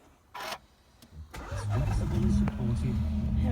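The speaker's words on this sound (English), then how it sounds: "let me just start her up" A 2017 MINI Cooper 5 Door with John Cooper Works bodykit starting up: a brief starter whir and click, then the engine catching and settling into a steady close idle with a low rumble, with a voice speaking over it.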